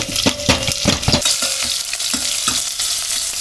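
Whole spices and diced onion fry in hot oil, a bright close sizzle with quick stirring scrapes and taps at the start that thin out into a steady crackle, no talk.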